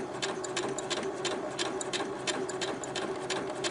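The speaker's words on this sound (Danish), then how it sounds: "hele vejen herned igennem syr vi med rynketråden" A sewing machine stitches through tulle with a gathering thread, running steadily with a rapid, even mechanical clatter close to the microphone, with no talk.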